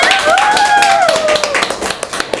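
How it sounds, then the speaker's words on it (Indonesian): A small audience at a youth empowerment event claps in a brief burst of scattered handclaps, with a voice and whoop-like tones over the clapping that taper off. "tepuk tangan dulu semuanya"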